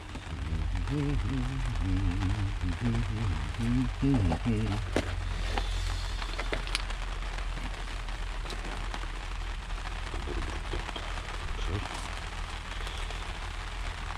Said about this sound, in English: The rain's there now.